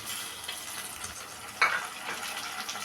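Tomato pieces drop into a frying pan and sizzle softly and steadily, with a brief louder splash of hissing partway through as they hit the hot oil.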